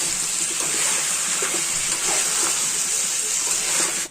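Mutton pieces fry with garam masala in a hot pan for mutton pulao while being stirred, giving a steady, loud, unbroken hiss with faint scraping underneath.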